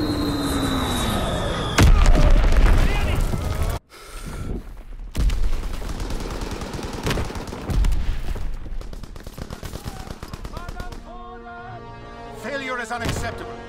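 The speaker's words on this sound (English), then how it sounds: "Enemy bomb incoming." Enemy bomb explosions and gunfire in the World War II shooter game Call of Duty WWII, with heavy booming blasts and rattling shots repeating over about fourteen seconds, loud and close, with brief game voice callouts mixed in.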